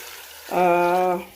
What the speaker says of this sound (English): adding in the water now.